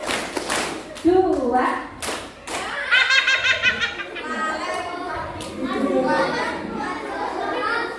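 A group of children claps sharply a couple of times, the crisp slaps mixed in with lively chanting voices and some giggling.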